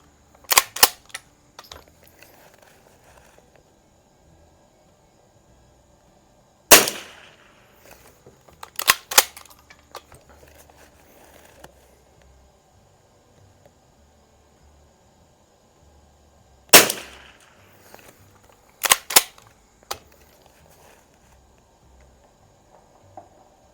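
A first-year 1931 Winchester Model 61 rifle fires at targets outdoors, giving a handful of sharp, sudden cracks in pairs and clusters separated by long quiet gaps.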